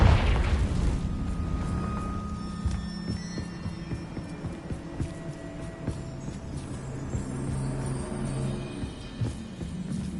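Confringo blasting spell from a Harry Potter video game, a deep booming burst at the start that rolls into a low rumbling hum and scattered crackles lasting several seconds.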